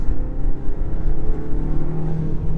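A 2021 Mercedes GLA200 engine on paddle-shift downchanges, a loud, close, droning engine note heard from inside the cabin, rising and falling slightly with the shifts and no talking.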